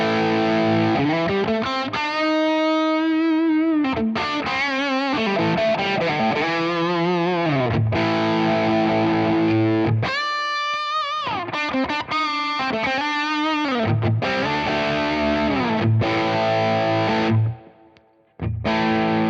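Electric guitar through a Tone King preamp's lead channel with an HRM pedal, playing a thick, saturated lead line of sustained bent notes and short phrases, loud and close, ending with a brief pause.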